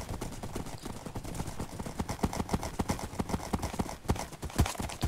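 Quick, rhythmic clip-clop of horse hooves in the Minecraft video game, a steady run of hoofbeats at moderate volume, heard alone without talk.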